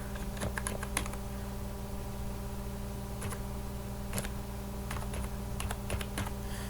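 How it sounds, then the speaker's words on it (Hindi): Keys clatter in quick, uneven bursts as a phone number is typed on a computer keyboard, close and clear over a steady low electrical hum, with short pauses between runs of taps and no voices. "टेक्स्ट में मैं अपना फ़ोन नंबर लिख देता हूँ।"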